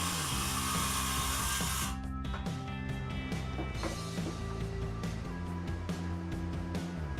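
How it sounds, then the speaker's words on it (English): Circular saw cutting 3/4 inch thick MDF shelf pieces, a loud, steady whining blade with a hissing cut that eases partway through, then the motor humming on, close and continuous. "cut the pieces out with my circular saw"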